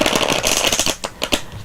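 Tarot cards being shuffled by hand, a quick run of crisp riffling and flicking taps that sounds close and clear, with no talking over it.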